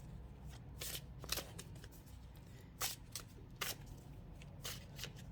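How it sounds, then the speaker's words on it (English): Tarot cards are shuffled by hand in a quiet room, with a series of crisp, brief riffling bursts at irregular intervals and soft handling noise between them. "So let's get your cards pulled."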